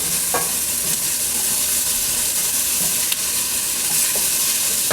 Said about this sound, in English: I put another pinch of salt, stir it around.